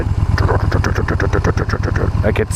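Stock-exhaust 2014 Yamaha Bolt R Spec motorcycle engine growling close up, a steady throbbing idle with rhythmic pulses and a brief rev near the end.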